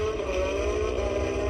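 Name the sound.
car engine revving at demolition derby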